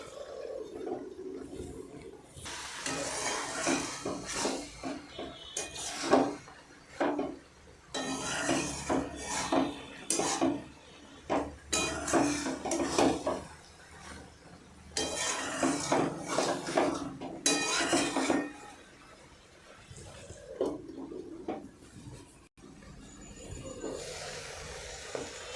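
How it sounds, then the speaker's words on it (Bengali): Malabar spinach seeds with spices are stirred in a wok, giving bursts of close metallic scraping and clinking that alternate with short quiet pauses over a long stretch. "মাঝে মাঝে ঢাকনা খুলবেন এবং এইভাবে একটু নাড়াচাড়া করে নেবেন, যাতে কড়ায় না লেগে যায় মশলা"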